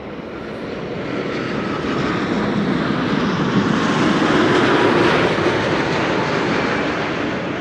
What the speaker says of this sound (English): BizJet on final.